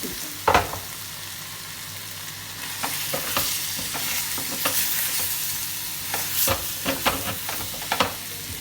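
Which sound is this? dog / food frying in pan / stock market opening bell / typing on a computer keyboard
food frying in pan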